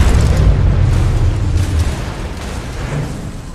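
A missile explosion in the Cabals War Games video game rumbles as one loud, deep, sustained blast that slowly fades.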